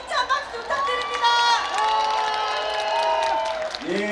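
A crowd at a Democratic Party campaign launch rally in Gwanghwamun cheers and shouts loudly and without a break, with whoops and excited voices, some of them children's, filling the space throughout.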